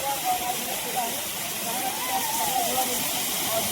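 A hillside waterfall sends out a steady broad rush of falling water, with faint voices in the background.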